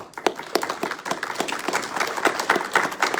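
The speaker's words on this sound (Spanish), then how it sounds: "Dale un aplauso al Señor" A church congregation applauds together in dense, steady clapping that runs throughout at moderate level, with individual claps standing out sharply here and there.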